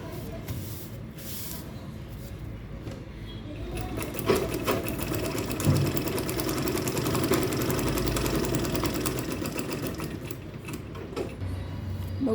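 Sewing machine stitching pieces of a traveling bag, a fast steady mechanical whir and needle clatter running close and continuous, with brief pauses and slight speed changes.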